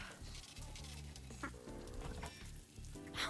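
Hamburger meat sizzles on a skillet in the VRChat game, a faint, steady hiss running the whole few seconds under a low hum and tonal background sounds.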